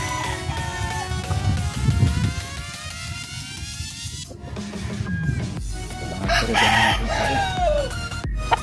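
A gamefowl rooster of a fighting bloodline crows loudly and close in a backyard farm, with a long descending call followed by further crows and clucks from other birds nearby, no voices over it.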